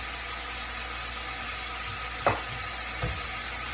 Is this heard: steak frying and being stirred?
yes